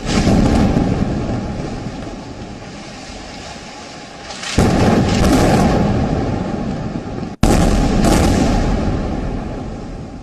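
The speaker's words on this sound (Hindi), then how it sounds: "पहला धमाका।" Heavy explosions from an Israeli air strike on a tall building in Gaza: a sustained deep rumble jumps with two sudden, loud blasts partway through, each followed by a long roaring decay, with no voices.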